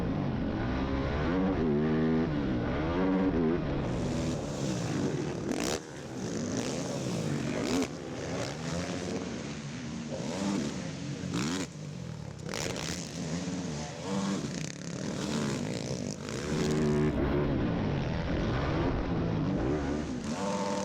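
ATV engines race at the Ironman Raceway ATV motocross nationals, a loud near continuous mix of several machines revving and shifting through gears, rising and falling as they pass, with no talk heard.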